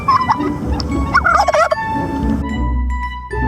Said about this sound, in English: Turkey gobbles.